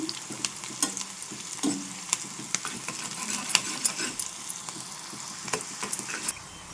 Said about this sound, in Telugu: చూడండి వీటిని అటు ఇటు తిప్పుకుంటూ చక్కగా ఫ్రై చేసుకోవాలి బాగా ఫ్రై అయ్యే వరకు కూడా మనం ఫ్రై చేసుకోవాలి